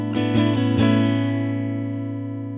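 An electric guitar played through a Death by Audio Space Bender effects pedal, with a few quick picked strums that ring into a sustained, slowly fading chord.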